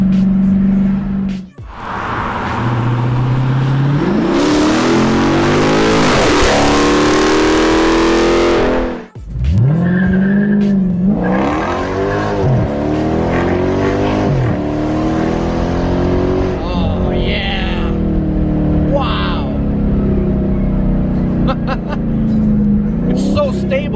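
Dodge Charger Scat Pack with a Hemi V8 revs hard, its exhaust roaring and rising in pitch through gear pulls, loud and close, with someone talking over the engine.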